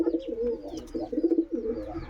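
Several pigeons coo in repeated low, rolling burbles, close by and continuous with no talk.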